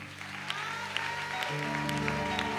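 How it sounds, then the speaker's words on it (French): A church congregation claps in praise of the Lord at a revival campaign meeting, steady applause over a sustained musical accompaniment, with no talking. "Mais est-ce que tu peux acclamer pour le Seigneur même?"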